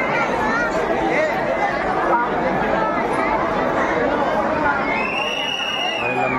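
Dense crowd chatter fills the Chaiti fair in Kashipur, Uttarakhand, a continuous hubbub of many overlapping voices at steady loudness, with a brief whistle-like tone rising near the end.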